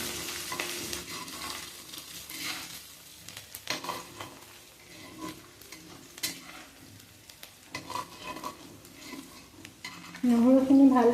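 Chopped garlic and green chillies sizzle in a hot pan of oil while a utensil stirs and scrapes intermittently against the metal, close and fairly quiet, with a sharper scrape near the end.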